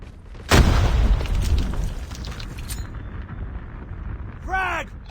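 A frag grenade goes off in a ranked multiplayer shooter match with a loud, close boom that rolls into a long rumbling tail, followed by a short game sound effect near the end.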